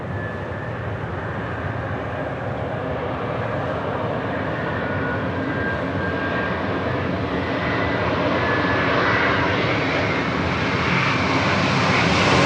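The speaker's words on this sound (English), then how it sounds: "the big Q, Qatar Airways, the A350-1000, coming in from Doha" A Qatar Airways Airbus A350-1000 arriving from Doha at LAX, its broad jet roar building steadily and growing louder toward the end, continuous and close with no voices.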